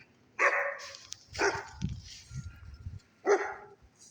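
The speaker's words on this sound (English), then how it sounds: "I'm not sure what she's barking at, probably a bird or something" A dog barks three times with pauses in between, fairly close, in a snowy Vermont backyard, with a few low muffled sounds between the barks.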